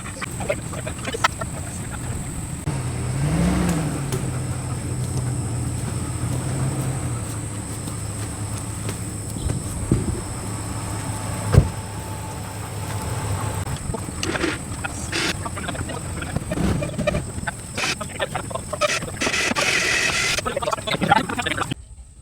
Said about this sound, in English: now I'm going to use the winch off my Tahoe with a pulley block to pull it up straight